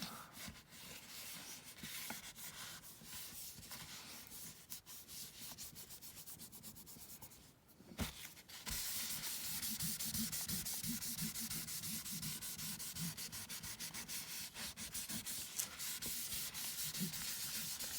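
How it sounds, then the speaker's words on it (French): Glued paper cover of a handmade junk journal pressed and rubbed by hand, a steady close scraping and rubbing that runs on without pause, briefly thinning partway through and then returning louder. "j'appuie en fait pour bien répartir la colle"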